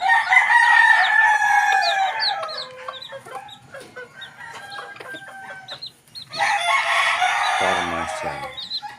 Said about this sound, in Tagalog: Tumitilaok na sila.